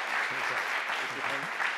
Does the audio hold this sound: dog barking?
no